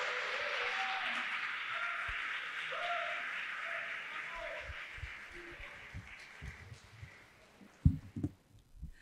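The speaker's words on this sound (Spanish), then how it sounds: "Y un fuerte aplauso." Applause from an audience at a talk fills the first several seconds as an even patter, then fades out into scattered thumps and handling noises.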